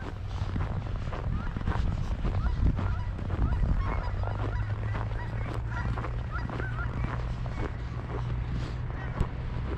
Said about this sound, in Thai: นี่มันเป็นห่านนะเนี่ย